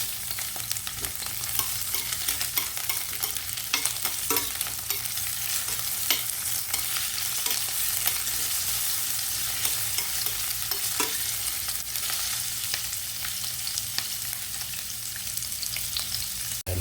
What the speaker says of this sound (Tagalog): Gisahin muna natin ang ating sibuyas.